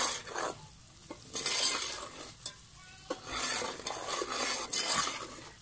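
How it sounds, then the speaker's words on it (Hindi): A spoon repeatedly scrapes and stirs semolina roasting in ghee in a pan, with rhythmic swishing strokes over a gentle sizzle, close and fairly quiet, no talking. "अच्छे तरीके से चमचे से हमने इसे हिलाते रहना है सूजी को, जब तक ये घी ना छोड़ दे"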